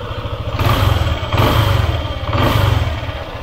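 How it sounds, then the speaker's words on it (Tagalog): A motorcycle engine, freshly run on new oil after a 6000 km oil change, revs up three times over a low idle, each throttle blip swelling and falling back, close and loud. "Mas responsive yung kanyang throttle kapag pinipiga natin."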